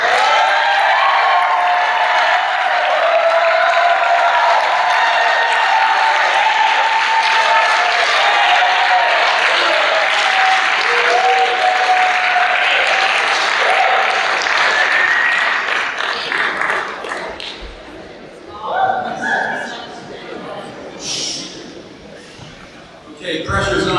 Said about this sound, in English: Please give your applause for Steve Ernst.